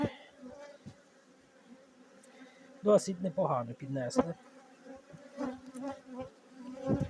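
Honey bees from a three-week-old bee package hum steadily at an open hive, a low continuous drone, while someone talks over it and frames knock and rustle now and then.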